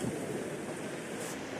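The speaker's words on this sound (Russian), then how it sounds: "Ой, ветруган-то ужас просто какой." Strong wind roaring steadily outdoors on a path near Massandra in Yalta, a short, fairly faint continuous rush with microphone buffeting and no voices.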